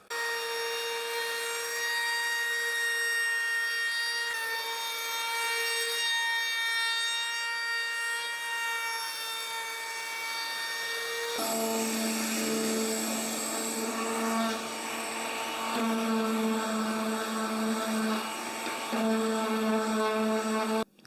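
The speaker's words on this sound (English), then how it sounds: "use the palm router with a round over bit in there" A palm router with a round-over bit whines at high pitch as it cuts along a wooden push stick's edge, the tone dropping and shifting as the bit bites into the wood.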